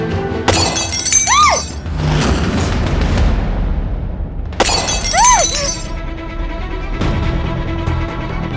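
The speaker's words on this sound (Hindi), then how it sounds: "ऐसा लग रहा है जैसे कहीं शीशा टूटा हो।" Loud glass shattering bursts out twice, each crash followed by tinkling, ringing shards scattering and falling, with a third sharper impact near the end, up close and with no talking.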